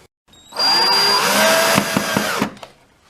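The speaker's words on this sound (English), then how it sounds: "put the other 3 screws in" A power driver whirs loudly for about two seconds while driving a screw into a guitar, then winds down with a few short clicks, close and alone.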